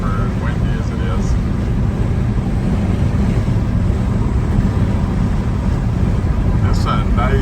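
Steady low rumble of cab and wind noise fills the interior of a 1970 Chevrolet El Camino cruising in a 25-mile-an-hour northwest wind, constant and unbroken throughout.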